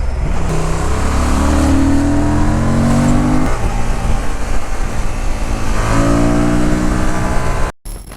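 A Honda Transalp 750 twin-cylinder motorcycle engine revs hard and close, rising through repeated throttle sweeps with a dip in between, then cutting off abruptly near the end.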